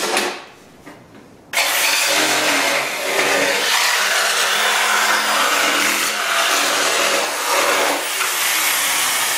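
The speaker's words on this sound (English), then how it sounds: "Standard jigsaw. The Bosch, old school." An old-school Bosch jigsaw cutting 1/4 inch plywood: a brief quiet start, then the saw kicks in loudly with a harsh, buzzing cutting rasp that runs steadily for about eight seconds, close and without talk.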